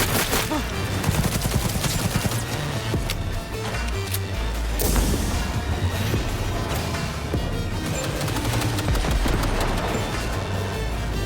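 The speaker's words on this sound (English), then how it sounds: "for a couple turrets in friendly mode, they are not particularly concerned about friendly fire" Friendly automated turrets in Cyberpunk 2077 fire sustained, dense bursts of gunfire, loud and continuous with heavy booming impacts and crashes mixed throughout.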